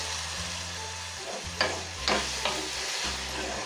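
Golden-browned onions and tomato paste sizzle steadily in a pan for pav bhaji, a continuous close frying hiss broken by a few sharp scraping stirs of a spoon, with a low hum underneath and no talking.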